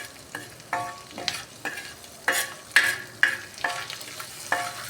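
Paneer being stir-fried in a pan, with repeated spatula scrapes and clacks in an uneven rhythm over a constant close sizzle.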